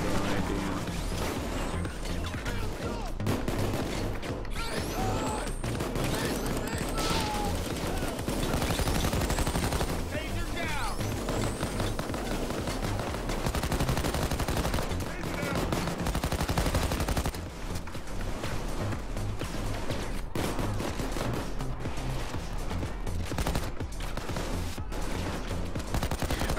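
Sustained gunfire from Payday 2, dense and continuous shooting with rapid cracks and bursts layered over a noisy battle mix with no pauses.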